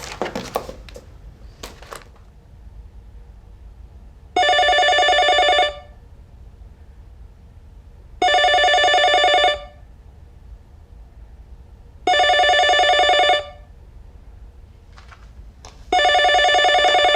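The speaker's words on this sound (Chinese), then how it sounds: "我打给他酒店房间试试？" A hotel room telephone rings in four evenly spaced bursts, each a loud electronic trill lasting about a second and a half, separated by quiet gaps.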